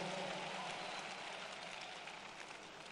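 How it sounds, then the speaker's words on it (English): A church congregation applauds in a dense, steady wash of clapping that fades slightly toward the end, heard at a distance with no voices on top. "Let's clap for Jesus."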